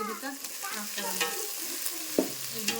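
Chopped raw mango, onion, green chilli and curry leaves fry in hot oil while a spoon stirs them, giving a soft crackling sizzle with occasional scraping clicks and one sharp knock; no one talks.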